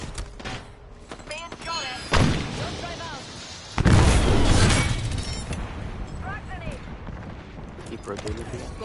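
Apex Legends gunfire: sharp broadband bursts of shots, loudest around the middle, mixed with game effects while a player talks over the action.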